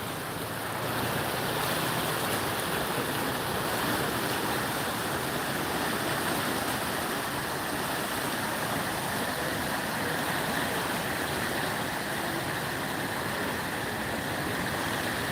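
Water gushes steadily out of the Pateshwari sluice gate, draining a wetland into the Chitra-Nabaganga river; a loud, constant roaring rush fills the whole stretch without letting up.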